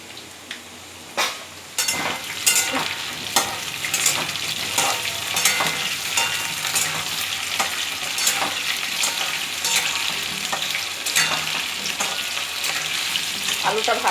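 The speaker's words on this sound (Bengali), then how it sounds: "আলুটা একটু ভাজা হবে" Potatoes fry in a pan with a steady close sizzle, punctuated by repeated sharp scrapes and clatters of stirring, after a quieter opening; a faint voice appears briefly.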